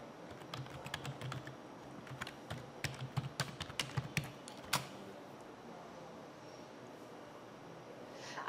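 Typing on a computer keyboard to write an email, a run of quiet close key taps for about five seconds that then stop, with faint room noise after.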